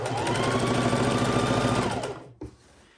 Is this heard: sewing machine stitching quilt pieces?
yes